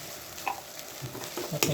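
Tinned fish tipped into a hot pan and stirred, giving a soft, faint sizzle with light scraping, no voices.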